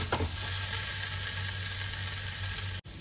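Jackfruit curry with potato and spices fries in a pan, giving a steady, dense sizzle that runs evenly throughout with no voices.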